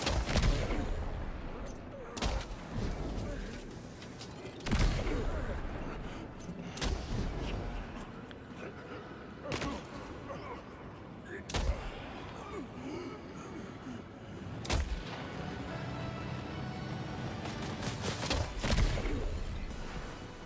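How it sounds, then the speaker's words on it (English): Gunfire in the video game Death Stranding 2: dense, continuous shooting with repeated loud bursts and booming reports over a constant roar of battle noise, with a voice faintly audible in the mix. "Who's shooting at me?"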